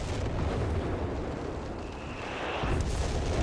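Bishop self-propelled artillery firing in Company of Heroes 3, a dense, loud, rumbling blast that rolls on for a few seconds, then a second boom near the end.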